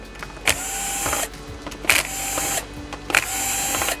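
A power screwdriver whirs in three short bursts as it backs screws out of the rear cover of a Sony XBR-65X900C 4K television. Each burst is close and mechanical, with quiet pauses between them.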